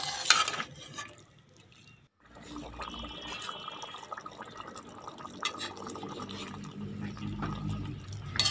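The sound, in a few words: water poured into beetroot and cauliflower sabzi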